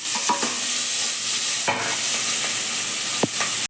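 Sliced onions and green chillies fry in oil, a loud steady sizzle broken by a few sharp clacks of a spoon stirring against the pan.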